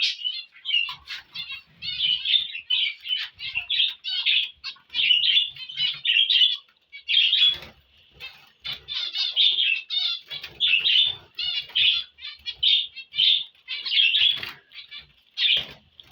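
Zebra finches chirp and tweet continuously inside a cage, a steady run of bright, close calls with brief pauses and occasional soft wing flutters.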